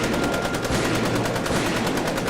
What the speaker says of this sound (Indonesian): Langkah 9, tembaki papan target.